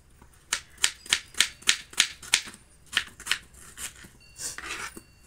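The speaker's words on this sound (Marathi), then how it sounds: "कांदा जास्त असला ना की बिर्याणी छान लागते, त्यामुळं मी कांदा कापते।" Onions being sliced thin and lengthwise with a knife for vegetable biryani, a regular series of crisp close chops on a board, then a few quieter, looser cuts and a brief scrape near the end.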